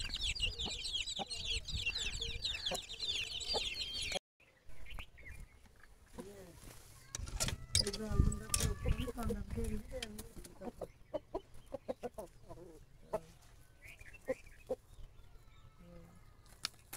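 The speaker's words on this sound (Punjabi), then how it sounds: "ਇਹਦੇ 'ਚ ਵੀ ਚੂਚੇ ਇਹਨਾਂ ਦੇ ਮੁਰਗੀ ਆ" Hens and their chicks cluck and cheep in a farmyard coop, with busy high chirping at first and then scattered clucks close by. People talk in the background.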